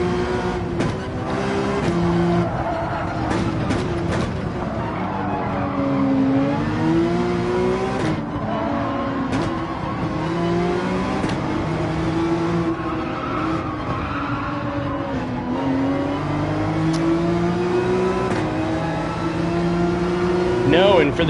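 A Porsche 911 race car in Gran Turismo 7 drives with its engine revving up and down through gear changes, and tires squeal through corners. The engine is loud and sustained, with someone talking over it now and then.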